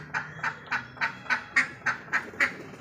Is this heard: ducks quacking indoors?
yes